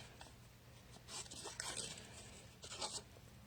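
Scissors snip close by through stamped paper, fussy cutting around a Seascape stamp image, in a few short crisp bursts over a low steady hum.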